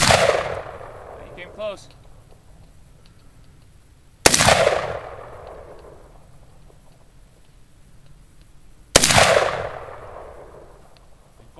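Three sharp, loud gunshots from a Bushmaster XM-15 E2S AR-15 rifle at an outdoor range, evenly spaced about four seconds apart, each ringing out into a decaying echo, with brief talk between shots.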